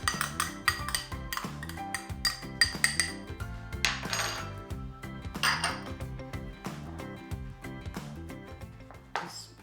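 Dry ingredients for low carb sausage rolls are stirred in a bowl, giving close, busy clinks and scrapes of a utensil against the dish in an uneven rhythm, with no one speaking.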